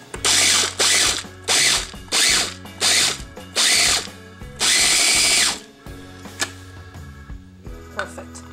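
Pecans are chopped in a hand-pulled manual chopper: about six loud, close ratcheting bursts in steady succession, the last one longer, followed by quieter handling clatter.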